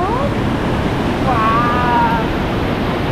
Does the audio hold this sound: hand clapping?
no